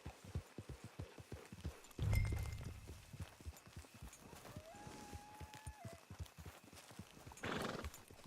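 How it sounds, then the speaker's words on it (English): Horse hooves clip-clop steadily at a walking pace in Red Dead Redemption 2, a regular close rhythm that runs throughout, with a brief neigh and a low thump partway through, and faint ambient tones behind. "Get your horse."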